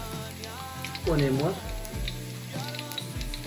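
Onions and bell pepper go into a hot pan with garlic and sizzle steadily. The crackle stays quiet under a person speaking Spanish, with a brief louder burst as the vegetables are stirred.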